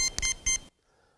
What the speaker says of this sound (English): I'll put it near my neck so you can hear it beep 3 times.